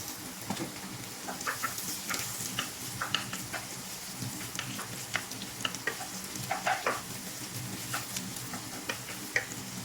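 Chopped onion sizzles in a pan for creamy macaroni soup, a constant frying hiss broken by frequent light clinks and scrapes of a spoon stirring at an irregular rhythm.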